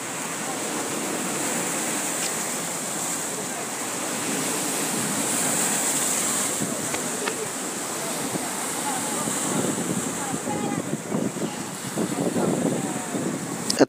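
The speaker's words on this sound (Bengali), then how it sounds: "অনেক বড় বড় ঢেউ হচ্ছে" Big waves on the Bay of Bengal at full high tide make a continuous loud roar of surf mixed with strong wind buffeting the microphone, steady throughout with no pause.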